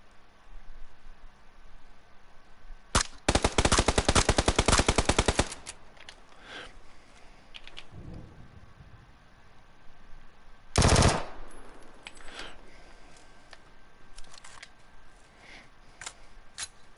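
Video game gunfire: a rapid burst of automatic fire, a longer sustained burst later, and scattered single shots, loud and close, with quiet stretches between.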